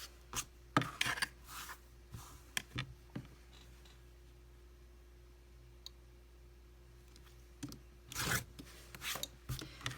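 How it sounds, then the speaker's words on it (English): A quilt block's sides trimmed against a ruler, heard as scattered close rubs, clicks and short rasping cuts separated by quiet pauses. "now I'm just going to take my ruler here and trim up these sides"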